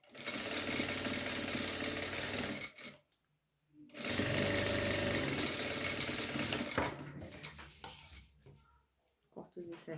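A sewing machine stitching a straight seam on a baby towel, running in two loud whirring bursts of a few seconds each with a short pause between them, close up, followed by softer handling noises.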